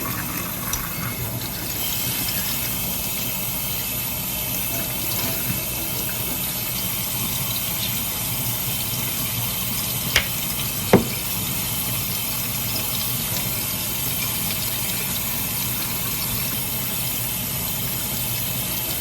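Tap water runs steadily and fairly loudly while an American Girl doll's hair is washed, a constant hiss and splash lasting throughout with two faint clicks partway through and no speech.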